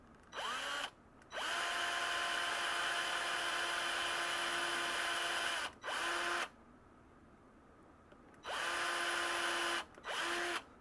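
A handheld power drill boring a hole through a deer antler for a candlestick, whining in several steady bursts of a few seconds each with short pauses between, close and loud with no talk.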